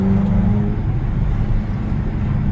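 A Peugeot 206 RC with a 2-litre engine pulls hard, giving a loud, close, steady low engine roar with no talk over it.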